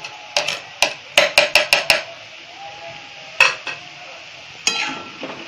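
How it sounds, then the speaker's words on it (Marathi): Fenugreek sabzi mixed with grated wet coconut and coriander in a metal pan, a spoon knocking and scraping in quick clustered taps, then a few isolated clacks with a light sizzle beneath, close and without speech. "भाजी चांगली अशी मिक्स करून घेऊया आपण."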